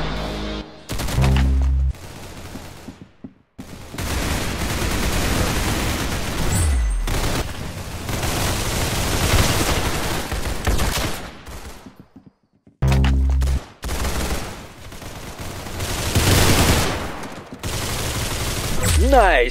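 Gunfire in an Arsenal round of a shooter video game, loud dense bursts of automatic fire and repeated shots filling most of the stretch, broken by short pauses.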